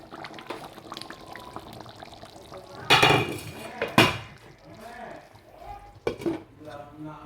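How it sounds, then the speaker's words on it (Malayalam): A metal lid is set on a pot of thick beef curry with the stove switched off, making a couple of sharp clanks and clatters close by amid light kitchen handling noise. "ഇനി ഇതൊന്ന് അടച്ച് വെക്കാം സ്റ്റൗ ഓഫാക്കാം"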